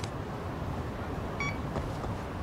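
Detector gadget in the Lost Judgment video game gives a short electronic beep partway through, set against a steady wash of in-game background noise.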